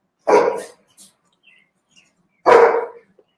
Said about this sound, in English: I don't want to turn around and look at her because that's probably going to reinforce that bark.